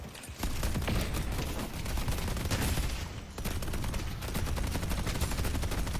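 A turret firing in a video game: loud, dense automatic fire rattles on almost without pause for several seconds, dipping briefly once midway.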